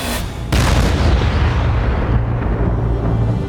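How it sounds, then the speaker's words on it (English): A cannon fires during a reenacted battle at the Alamo, one sharp, loud boom near the half-second mark that rolls into a long, heavy rumble and decays slowly, with no voices. "Gregorio is manning his cannon."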